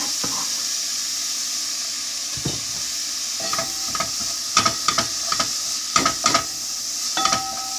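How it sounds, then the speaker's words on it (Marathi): Sliced onion sizzles in hot oil in a pan, a constant close frying hiss with a few brief stirring clatters of a utensil toward the end, no voices. "आतां तो पियाज मातशें भाजला"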